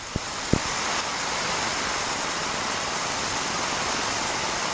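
Steady engine drone of an ultralight aircraft during an instruction flight, holding a constant broadband roar after the throttle is eased up, with a couple of brief clicks at the start.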